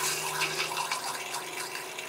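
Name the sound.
Airstream RV toilet bowl filling with water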